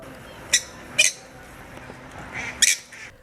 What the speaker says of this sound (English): Here's what the Pūkeko's call sounds like.